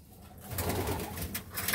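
Pigeons coo inside a loft, with soft repeated throaty calls close by and some shuffling and fluttering under them, all continuing steadily without speech.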